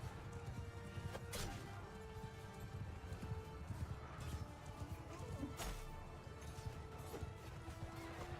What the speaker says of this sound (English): These stupid extra horses on the battlefield.